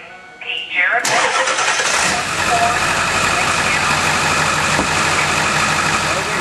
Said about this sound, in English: the last and final step is to make sure the truck will start